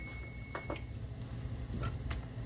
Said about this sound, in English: That's my rice timer.